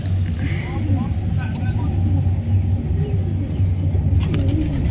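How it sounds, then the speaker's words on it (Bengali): Pigeons cooing in a home pigeon loft where a pair of squabs has hatched, soft repeated coos heard close by under people talking and steady low background hum. "এইখানে দুটো আছে কবুতর"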